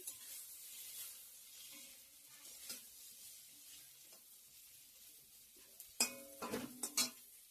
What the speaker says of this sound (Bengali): পটল ভাজা করছি এখন